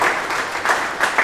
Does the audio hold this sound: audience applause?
yes